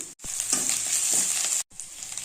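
Onions and curry leaves frying in a pan, a bright continuous sizzle with stirring scrapes, close and steady, cut by two brief dropouts, no speech.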